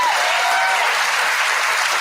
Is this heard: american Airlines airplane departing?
no